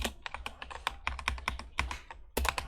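Keys on a computer keyboard are struck in quick, close, crisp clicks, typed in irregular bursts with a brief pause near the end.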